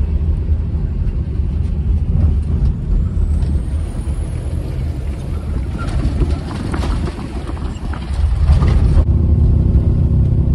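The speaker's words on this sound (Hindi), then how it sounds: "बस जबरदस्त साउंड है भाई अनीस भाई की गाड़ी की" A Tata Nano on an off-road trip, heard from close range with a steady engine rumble and road noise, shifting in tone as it drives, then settling into a lower drone near the end.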